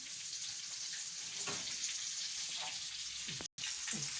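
Breaded panée sizzles in a pan of hot oil, giving a continuous, even hiss with occasional faint crackles, close and steady throughout with one brief dropout.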